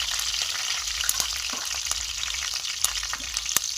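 Spices and curry leaves crackle in hot oil in a kadai after paneer is removed, a continuous close sizzle with a few sharp pops and spatters, no voices.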